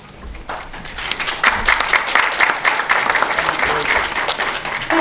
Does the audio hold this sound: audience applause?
yes